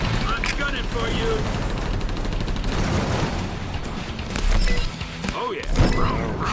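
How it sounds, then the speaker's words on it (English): Machine guns rattling in a vehicle combat video game, dense sustained bursts of rapid fire with crashing impacts layered over a busy mix, loud and close, with someone talking over the action. "Got some machine guns going on here."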